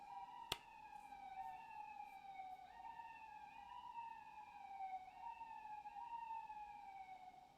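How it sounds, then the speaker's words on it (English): An ambulance siren sounds steadily throughout, its wail rising and falling in repeated sweeps, loud and near, with a sharp click just after the start and no talk. "we'll get out of here once the ambulance passes"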